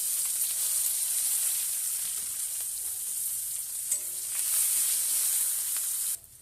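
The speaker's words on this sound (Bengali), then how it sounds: "পেঁয়াজটা ভাজা হয়ে গেছে" Onion and green chillies frying in hot oil with five-spice, a bright steady sizzle close up, with occasional faint stirring clicks, continuous for several seconds before cutting off near the end; no one talks.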